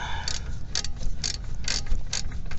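A wrench works a spinning brake caliper bolt on a 2016 Subaru Crosstrek during a brake job, giving about five short bursts of fast ratcheting clicks at a steady pace, close up with no talking.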